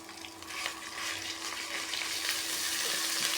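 Cumin paste hits hot oil in a pan while cooking a Bengali mashkalai lentil dish with rohu fish head, giving a steady, close sizzle with a low hum beneath, rising slightly after the first half second and holding loud.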